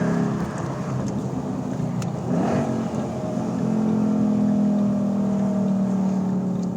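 A 2013 Ford Mustang Boss 302 on the Laguna Seca circuit builds speed, its engine note rising into a loud, sustained drone heard from inside the car, with no talk over it.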